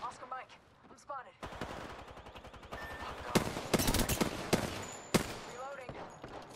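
Gunfire in Apex Legends: rapid automatic bursts and single shots, close and loud, with short gaps between volleys and brief voice callouts.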